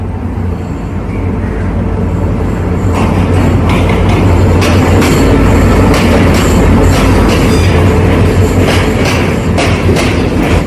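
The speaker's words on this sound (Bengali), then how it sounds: "আমার ট্রেন কিন্তু চলে এসেছে প্ল্যাটফর্মে" A train rolling into a platform at Colombo Fort railway station in Sri Lanka, a loud, steady rumble and clatter of wagons that holds for the whole stretch, with a hum and station noise underneath.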